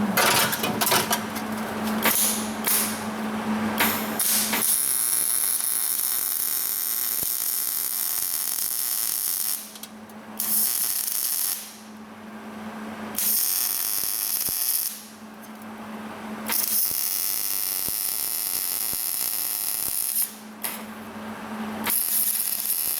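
MIG welding on a Subaru Forester exhaust during a rattle repair, with the welder set a little hot: a steady buzzing, crackling arc in several bursts of a few seconds each, broken by short pauses, close and fairly loud.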